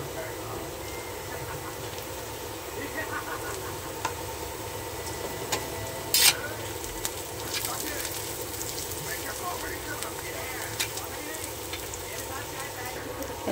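Red chili frying in hot oil, a steady soft sizzle with scattered light ticks and crackles, one brief sharp clatter midway, under a voice talking throughout.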